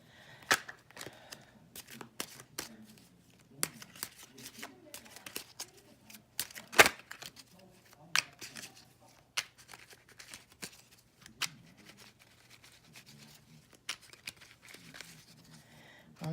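Quick bursts of flicking and riffling Lenormand cards being shuffled, irregular and close-up, separated by short quiet pauses.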